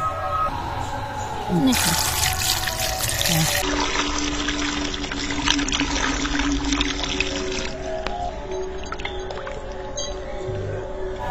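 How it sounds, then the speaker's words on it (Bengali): Ripe mangoes being rinsed under running water, with a steady pour and splashing through most of the clip and someone talking over it. "আমগুলো এখন ধুয়ে নেব"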